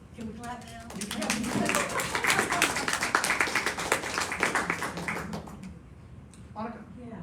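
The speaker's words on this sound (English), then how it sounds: "Can we clap now?" An audience claps after a local history talk about Boone, a dense run of handclaps building for a few seconds and then fading, with people speaking around it.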